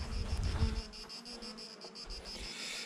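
A swarm of bees hums steadily around a hive, a continuous close buzzing drone that holds at an even level throughout, with no voices over it.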